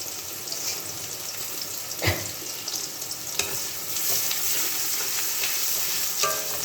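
Chopped garlic frying in a pan, a continuous close sizzle with a few sharp stirring clinks and scrapes, no voices.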